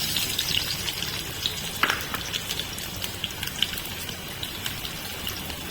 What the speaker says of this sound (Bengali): তেল গরম হয়ে গেছে, এবার আমি পেঁয়াজটা দিয়ে দিচ্ছি।